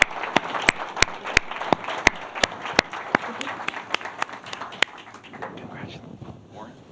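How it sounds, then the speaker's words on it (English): Audience applause for an award winner at an annual award presentation, a steady wash of many hands clapping with sharp individual claps, fading away after about five seconds. "And give him a big round of applause."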